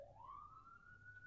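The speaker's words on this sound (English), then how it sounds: "Don't mind the siren, if you can hear it." A siren sweeps steadily upward in pitch and then holds a high wail, fairly faint and distant under a low background rumble, with no talk over it.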